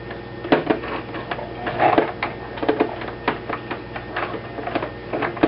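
A home sewing machine being turned through a rotation to pull up the bobbin thread, giving a string of light mechanical clicks and clatters, close and fairly loud, with no talking.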